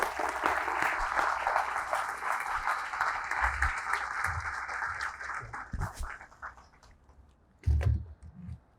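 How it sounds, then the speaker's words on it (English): Applause at a downtown Aurora apartment development event welcomes the mayor, a steady, moderately loud crowd clapping that thins and fades out toward the end, with a few louder claps near the close. "Let's keep that round of applause going for ENC Construction and Development"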